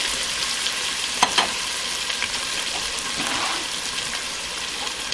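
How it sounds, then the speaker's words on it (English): Steady sizzling of celery, carrot and onion frying in hot oil, a constant crackling hiss with a couple of brief clatters from a utensil, no talking. "while that is now frying,"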